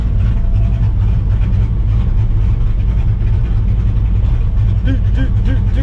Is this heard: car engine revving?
yes